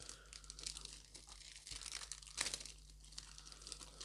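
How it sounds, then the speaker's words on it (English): Plastic packaging on a Bandai S.H. Figuarts Dragon Ball Z Nappa action figure crinkles faintly as scissors cut it open. A few short snips and crackles come close up over a low hum, with no one speaking. "I have scissors to open this because I'm useless at pulling plastic apart"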